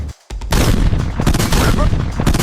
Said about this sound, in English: The tank found a mine the sappers had missed.